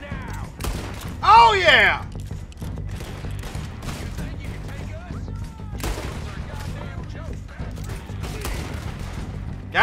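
Gunfire in Red Dead Redemption 2 cracks out in repeated loud shots and volleys through a Western shootout, while a man exclaims excitedly over the action.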